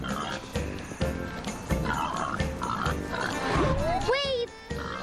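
A pig oinks and grunts in a cartoon scene, heard among people talking and playful sound effects.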